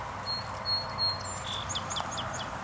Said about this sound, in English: that was a song sparrow